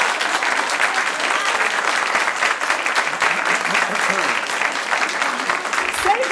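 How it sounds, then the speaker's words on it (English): Dense, steady applause from a large audience, sustained throughout with no pauses. "applause till the end."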